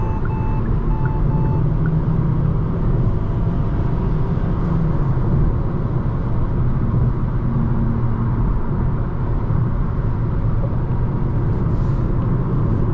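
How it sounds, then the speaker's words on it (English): Steady road and engine hum inside a 2026 Hyundai Sonata Hybrid cruising at highway speed in eco mode, a continuous low rumble of tyres and wind holding level throughout with no speech. "it's gone eco mode, and now cruising at 107 kilometers an hour"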